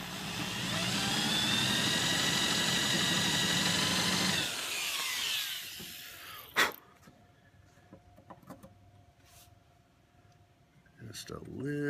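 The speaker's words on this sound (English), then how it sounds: "I'm just countersinking the heads of these things." A power drill countersinks screw heads in wood for a steampunk gear table, a loud steady whine for about four seconds that cuts off abruptly, followed by quieter handling noises and a sharp click.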